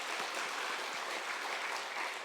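A church congregation at a Sunday morning worship service claps steadily, a loud, even wash of many hands that is rhythmic and continuous throughout.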